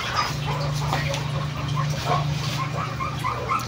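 A dog yips and whimpers in a short string of high, thin barks mixed with a low steady hum, close and moderately loud in an indoor setting.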